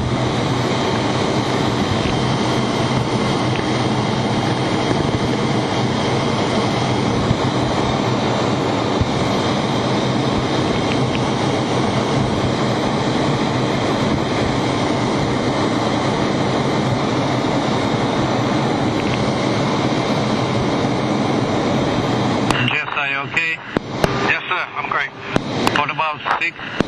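A MiG-29 fighter jet taking off, a loud sustained broadband engine roar holding steady for a long stretch, then breaking into choppy bursts near the end, with radio voices talking over it.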